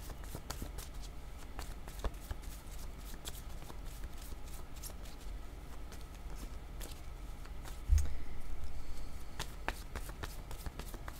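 Cards shuffled by hand for a card reading, a soft steady riffling and shuffling texture running throughout, with a sharper thump near the end and no talking.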